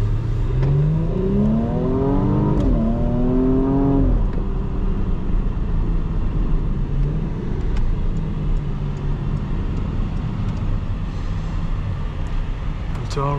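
A 2020 Porsche Cayenne Coupe S in Sport Plus mode accelerates hard through rising gear pulls from inside the cabin at night, engine note climbing and dropping across shifts, then settling into a steady road rumble.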